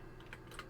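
Computer keyboard typing: a few quick, light key clicks in a short burst, close and fairly quiet over a faint background hum.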